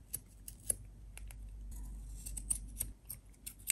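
Scissors cutting golden lace for a small junk journal, several crisp, close snips at irregular intervals against a quiet background.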